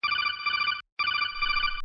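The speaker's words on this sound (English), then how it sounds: "My phone is ringing." A phone rings in two loud, bright electronic bursts with a brief gap between them, close and clear with no talking over it.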